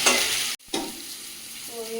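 Potato, pumpkin and okra sizzle loudly in a hot pan as they are stirred, with a brief cut to silence before the steady frying hiss resumes and continues, no talking.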